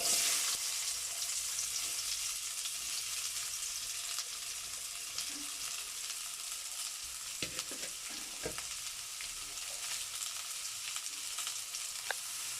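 Onion fries in hot oil in a pan, giving a loud, steady sizzle with occasional stirring clatters and sharp pops that stand out from the continuous crackle.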